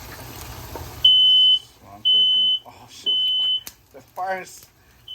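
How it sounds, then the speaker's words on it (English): A smoke alarm blares in three loud, shrill beeps with short pauses between, while a person talks briefly in between and after. "The smoke alarm is going off."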